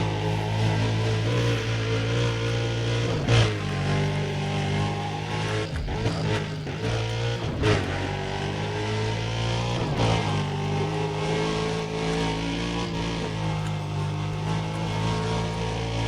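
Engine of a car driving off-road on dirt in the Need for Speed: Undercover video game, a steady droning rumble with brief surges and shifts, loud and continuous throughout, with no talking.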